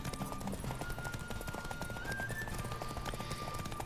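Horses gallop in The Witcher 3: Wild Hunt, a steady rapid clip-clop of hooves running close and continuous throughout, with a brief whinny-like tone and no talking.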